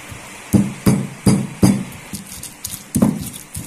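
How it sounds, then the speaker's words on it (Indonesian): Four shallots and two garlic cloves are pounded with a mortar and pestle, producing about eight dull, close thuds in a fairly even rhythm, one landing softer than the rest, with no voices. "di sini akan saya haluskan ada 4 siung bawang merah dan 2 siung bawang putih ya"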